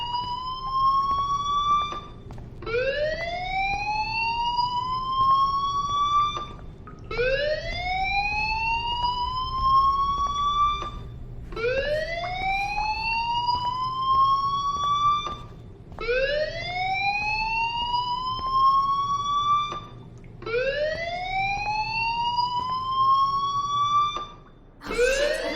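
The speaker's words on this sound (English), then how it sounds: "Hey, do you hear that fire alarm?" A fire alarm sounds in a school in Life is Strange, a rising whoop siren repeating about every four seconds, loud and steady with nothing else over it.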